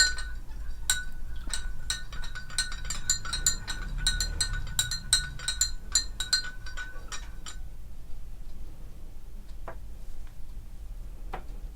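A spoon stirs a pink milk drink made with red syrup, clinking against the glass in quick, bright repeated taps for several seconds before it slows to a few scattered clinks.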